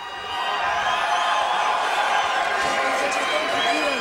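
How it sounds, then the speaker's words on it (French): Boxing arena crowd reacting during a bout, a steady loud roar of cheering and shouting that swells in after a moment and holds. "La foule qui réagit"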